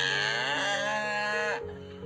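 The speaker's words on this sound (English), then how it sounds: "It's a cow." A cow lets out a long, loud, drawn-out moo that holds steady before breaking off, heard alone and close.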